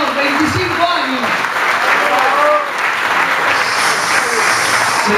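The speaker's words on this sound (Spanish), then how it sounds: "Señores, el aplauso para el compañero, Rubén Marcelo." Guests at a company year-end dinner applaud loudly and continuously for an honoured employee, steady clapping with voices and cheers mixed in.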